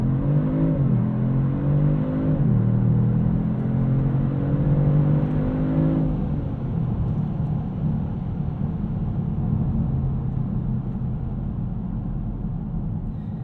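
A 2022 Kia Stinger GT2 launches hard under launch control. The engine note climbs steadily in pitch, with gear shifts at about two and six seconds, then settles into a steady, strong drone with no talking.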